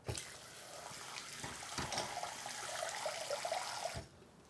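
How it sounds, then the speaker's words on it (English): Water pours into a bowl of pumpkin seeds being soaked, a steady close splashing and trickling stream lasting about four seconds before stopping abruptly, with no talking. "you add more water."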